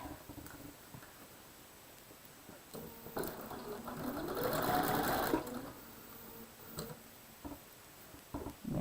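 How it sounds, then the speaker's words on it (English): A sewing machine stitches a quilt seam with a soft, fast mechanical whir that swells and speeds up midway, then stops, with light fabric handling and clicks around it. "So now I can go back and get to the sewing, get that lined up."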